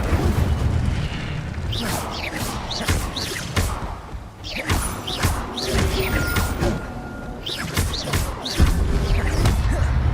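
In Hogwarts Legacy, the Incendio fire spell is cast over and over, each cast a booming, crackling burst of flame. The bursts come in quick, uneven succession amid combat noise.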